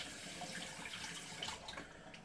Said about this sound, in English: I'm just going to run this brush under some hot water here